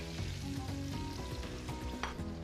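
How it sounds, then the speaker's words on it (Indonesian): Chili, shallots and garlic fry in a shallow layer of oil, giving a steady close crackling sizzle with light stirring scrapes throughout, no voices. "kita sediain minyak sedikit di sini, terus kita goreng si bawang merah dan bawang putih"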